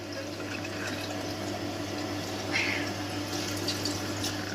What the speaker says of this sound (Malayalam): ഞാൻ മുഖം കഴുകുവാണ്